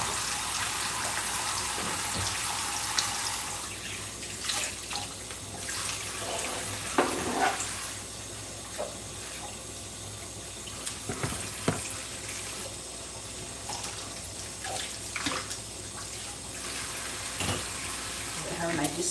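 Tap water runs into a kitchen sink while dishes are washed, a steady broadband rush with scattered clinks and splashes, close and fairly loud, with a person talking over it at times.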